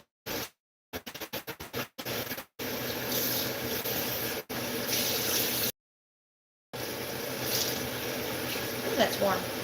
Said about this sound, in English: Ooh, that's warm. That is some warm water.